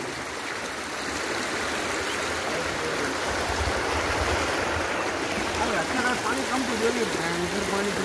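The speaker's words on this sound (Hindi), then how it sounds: "पानी का बहाव बहुत तेज है" Fast-flowing water of the Luni river rushes over a causeway in a steady, loud, broadband roar with no pauses.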